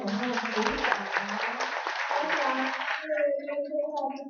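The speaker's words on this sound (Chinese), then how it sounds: "我们再次给他们鼓掌" Audience clapping at an indoor training camp event for the young volunteer staff, a brief round of applause mixed with talk, then fading as voices and children's sounds take over.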